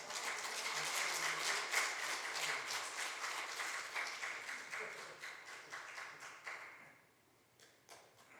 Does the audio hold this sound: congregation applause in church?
yes